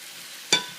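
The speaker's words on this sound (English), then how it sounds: "I'm also gonna stir it a little bit" A single short scrape of a spoon stirring borscht in a cooking pot, one quick clatter against quiet background.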